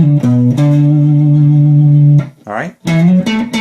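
An electric guitar plays an opening theme: a few loud, sustained, slightly distorted notes with a quick slide between them, heard alone and close.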